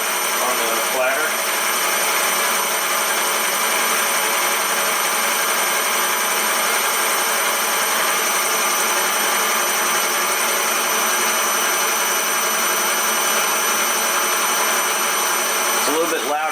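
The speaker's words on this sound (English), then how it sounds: "You can hear a little bit of clatter. And let's go up to 1500 RPM." Steady whine of a belt-drive modified quill spindle running at 1500 RPM, loud and continuous with a faint mechanical clatter underneath, a brief change near the start and end.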